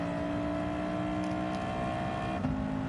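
Engine of a 1987 Audi Sport Quattro S1 Pikes Peak at Deep Forest in Gran Turismo 7, a steady high-revving drone holding pitch, then briefly shifting near the end, loud and continuous with no voices.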